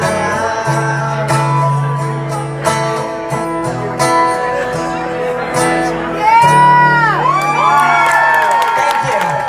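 A concert crowd at an EP release party screams, whoops and cheers loudly and continuously over sustained live music, swelling louder near the end.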